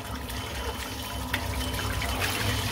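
Tap water runs steadily nearby while a shaving brush is rinsed out, a continuous splashing rush with no talk.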